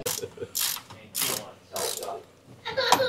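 Ratchet clicking in five rapid bursts as it works a nut loose on a Polaris RZR Turbo R, each burst a loud, close run of pawl clicks separated by short pauses, the last one sharper.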